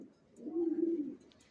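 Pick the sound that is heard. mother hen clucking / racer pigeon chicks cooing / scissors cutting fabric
racer pigeon chicks cooing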